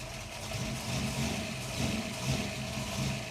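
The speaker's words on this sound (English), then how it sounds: "Just feather the throttle while it's warming up enough until it's warm enough that it'll idle." A 1980 Ford XD Falcon's 351 engine warming up, a faint, rough idle rising and falling in gentle surges as the throttle is feathered.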